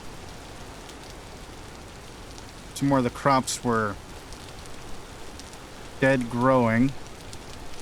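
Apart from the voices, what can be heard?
rain falling at night in the video game Vintage Story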